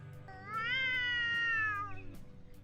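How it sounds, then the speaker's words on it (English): An unneutered male cat gives a long, drawn-out caterwauling mating yowl, one loud rising and sustained wail lasting over a second, heard close and alone. "unneutered male cats have their own unique mating call known as caterwauling"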